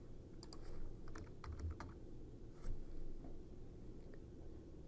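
Scattered bursts of quick clicking come from a computer keyboard, typed into a training search field, with soft, nearby keystrokes over steady low background noise and no talking.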